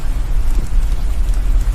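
Steady rain drums on a moving car at night, a dense, loud, low rumble with a continuous wash of patter and no voices over it.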